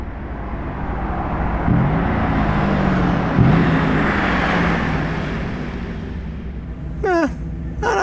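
A Lamborghini Urus SE drives past on a street, a rising and falling engine rumble under steady traffic noise, with a short revving sweep near the end.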